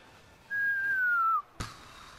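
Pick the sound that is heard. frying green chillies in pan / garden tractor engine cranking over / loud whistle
loud whistle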